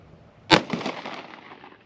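A single sharp gunshot from a Glock 19X 9mm pistol fired at a refrigerator cracks out loud and close, followed by a short decaying echo and faint rattling.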